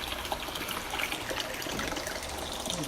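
Water trickling and gushing steadily as it refills an aquarium exhibit after cleaning, a continuous close splashing wash with no voices.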